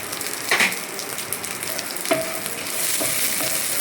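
Chillies frying in a pan with garlic, a close, steady sizzle with scraping stirs and a couple of sharper clinks of a spatula against the pan.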